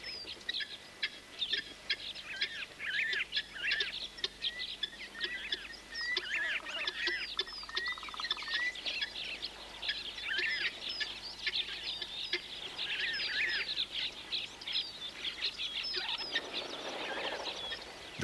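Flocks of water birds, including waders and ducks such as the fulvous tree duck and Cape teal, call continuously with dense overlapping honks and chatter, moderately distant and steady throughout.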